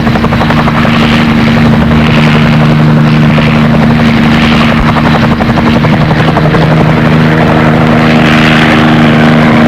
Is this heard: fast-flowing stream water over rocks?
no